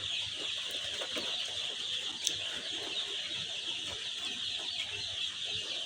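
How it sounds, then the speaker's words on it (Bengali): Brown cock chicks, fifteen days old, peep and cluck in a busy continuous chorus, a bright high chirping mass with a faint low hum beneath. "এগুলো হলো ব্রাউন কক মুরগি। এই মুরগিগুলা দেখেন, আইস 15 দিন বয়স।"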